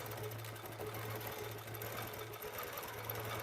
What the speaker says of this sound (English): I'm going to come down and just stitch in that ditch